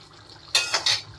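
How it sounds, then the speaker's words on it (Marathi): Water poured into chicken masala cooking in a pan, a couple of brief splashing bursts close by, standing out clearly against a quiet kitchen background. "मी पण थोडंसं पाणी टाकणार मसाला शिजणार म्हणून"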